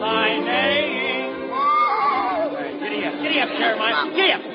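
A singing voice imitates a horse neighing in an old-time radio musical number, wavering whinny-like cries over a lively crowd and background chatter.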